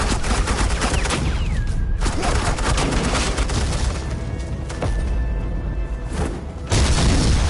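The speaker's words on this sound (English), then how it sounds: "suppressing fire" Sustained bursts of gunfire from Agent Quinn's suppressing fire in the Batman: The Enemy Within video game, loud and dense with booming impacts, running continuously with a brief lull before a sharp renewed volley near the end.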